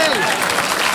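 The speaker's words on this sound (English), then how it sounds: "Stop clapping." Studio audience applauding on a TV quiz show, a dense wash of clapping filling the whole second, with a voice speaking over it.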